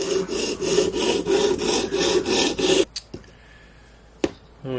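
A knife blade is being sharpened until a burr rises on each edge, giving steady rhythmic rasping strokes for about three seconds, then a few faint scrapes and one sharp click in near silence.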